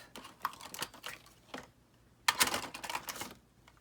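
Scissors cut through fabric in short, crisp snips, several quick ones in a row, a pause, then a louder cluster of cuts close by.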